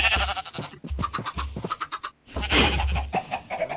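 Sheep and cows bleat and low in Minecraft, several short wavering cries following one another closely in a busy burst of farm animal calls.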